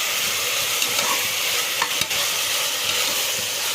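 Tomatoes fry in a pan for a simple vegetable pulao, producing a loud, continuous sizzle broken by a few sharp stirring knocks.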